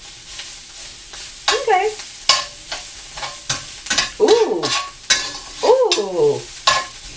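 Broccoli spigarello frying in a pan on medium-high heat, crisping with loud sharp sizzles and repeated scraping stir strokes in an uneven rhythm, with a brief spoken word.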